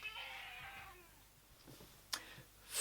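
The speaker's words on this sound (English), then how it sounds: "Cat needs a door open." A house cat meows near a door, asking for it to be opened; one drawn-out, fairly faint meow followed by a couple of soft clicks and thumps in a quiet room.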